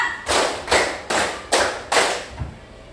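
Five loud, evenly spaced claps from a group of children in a classroom clapping game, sharp broadband bursts roughly every half second with no talk.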